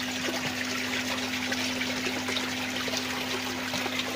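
Water splashes and trickles steadily from a homemade 3D-printed brushless water pump, a continuous close rush with a steady electrical hum beneath.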